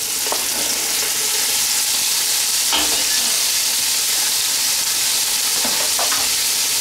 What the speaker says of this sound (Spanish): Lo vamos a freír un poquito.